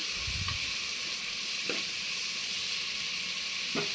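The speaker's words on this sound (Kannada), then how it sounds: "ಇದೀಗ ಗೋಲ್ಡನ್ ಕಲರ್ ಆಗೋವರೆಗೂ ಫ್ರೈ ಆಗಬೇಕು" Prawns and masala fry in a pressure cooker for biryani, giving a steady, close sizzling hiss with a few faint scrapes of stirring.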